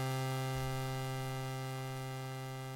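An Ableton Live Analog software synth with a slow attack and slow release holds one steady, buzzy tone rich in overtones that drones evenly through the whole stretch, with no voices.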